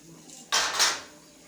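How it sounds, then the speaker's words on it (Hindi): Four kilograms of rice go into a large pot of boiling water for mutton biryani, a sudden half-second rushing splash and clatter of grains that quickly settles. "अभी हम इसमें चावल डालें।"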